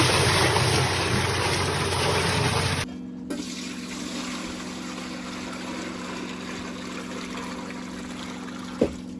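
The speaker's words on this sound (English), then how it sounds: "while I have the water flowing" Water gushes loudly from a pump feeding containers at an off-grid home in a Canadian winter, then drops abruptly to a quieter steady trickle over a low motor hum, with a brief knock near the end.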